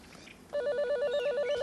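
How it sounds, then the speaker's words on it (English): A mobile phone sounds its error tone after a misdialed number: a loud, steady pulsing beep pattern that begins partway through and repeats evenly to the end, following a quieter stretch of faint background noise. "And that's the sound, which means go back to square one and start dialing again."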